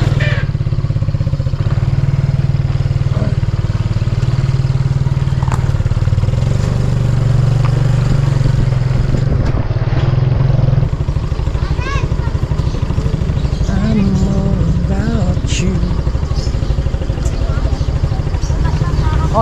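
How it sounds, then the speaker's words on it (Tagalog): A motorcycle engine drones nearby with a steady low rumble that swells around the middle as it passes outside a vegetable garden, while people talk over it. "Oh, yung motor."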